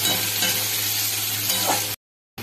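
Onions and green chillies frying in a pan over cumin and bay leaf tempering give a loud, steady close sizzle with a stirring scrape. The sound cuts to silence briefly before resuming.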